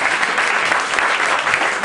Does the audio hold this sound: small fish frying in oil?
no